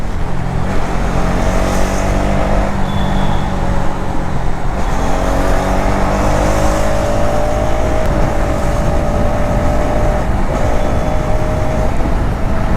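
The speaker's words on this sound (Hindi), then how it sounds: "यहाँ पे बहुत सारे अंडरपास टनल्स हैं जिसके थ्रू अगर आप मोटरसाइकिल को लेकर जाते हो तो काफ़ी अच्छा खासा आपको एग्जॉस्ट साउंड सुनने को मिलेगा." A Hero Xtreme 250R motorcycle's exhaust droning loudly and continuously as it rides through underpass tunnels, the engine note rising and falling with throttle changes and heavy wind rush.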